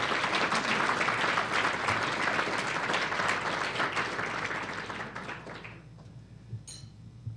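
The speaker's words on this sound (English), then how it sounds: "And you all get a big round of applause" Conference audience gives a sustained round of applause at the Choose Clean Water Conference, dense clapping that fades out after several seconds.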